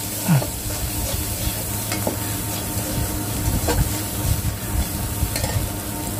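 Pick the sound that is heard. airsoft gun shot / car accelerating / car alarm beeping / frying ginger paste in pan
frying ginger paste in pan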